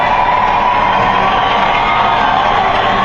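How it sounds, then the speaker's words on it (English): A baseball crowd at Scotiabank Field cheers steadily through the late innings of a Spokane at Vancouver minor-league game, a loud, continuous wash of voices and whoops with no distinct break. "As the crowd is getting back into this game."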